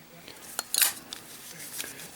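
A Zippo lighter with a steel insert, its lid handled and snapped: a few quiet, close metallic clicks and clinks, the sharpest pair near the middle, with soft handling noise between.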